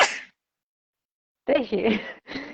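A single short sneeze, then a pause of silence followed by a few words of speech.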